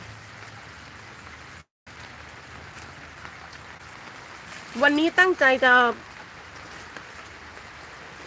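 Heavy rain falls steadily as a broad, even hiss over a home garden, with someone speaking briefly partway through.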